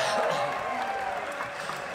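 Concert crowd at a live electronic music show in a Berlin club applauding an introduced performer, a dense, steady wash of clapping and crowd noise with some cheering mixed in throughout.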